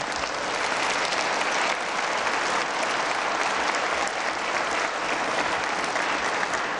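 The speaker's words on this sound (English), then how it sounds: "So give him a big round of applause." A big round of applause fills the chamber during the 2020 West Virginia State of the State Address, steady, dense clapping from a large crowd, loud and continuous throughout.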